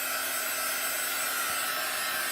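A heat tool or hair dryer blows hot air with a steady, close, breathy whoosh and a faint whine. It holds constant throughout the short stretch, with no voices.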